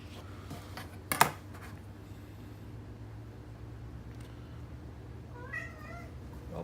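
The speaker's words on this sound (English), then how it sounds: "Oh, that's my cat." A cat gives one short, faint meow toward the end in a quiet room, after a brief sharp clatter earlier.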